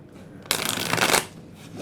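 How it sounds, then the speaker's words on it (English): A quick riffle shuffle of a deck of cards, a crisp burst of flapping and ruffling lasting under a second, close and clear. "I'm going to go ahead and shuffle one more time."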